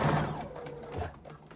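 A sewing machine top stitching t-shirt fabric, a short low motor whir with light mechanical thuds, close and fairly quiet.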